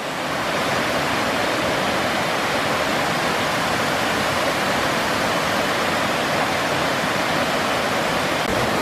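The Go Lao waterfall in Mai Chau, Vietnam, gives a loud, steady roar of rushing water that runs unbroken from start to finish, close and alone with no voices.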